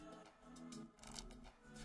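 Playing cards are shuffled close by in quiet, soft riffling bursts, with a brief pause in the middle and no voices.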